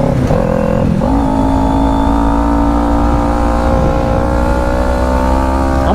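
A Sur Ron electric motorcycle runs at full throttle in traffic, giving a loud, steady motor whine with a sustained tone. The whine rises slightly early on, then holds even, with road and wind noise underneath and no talking.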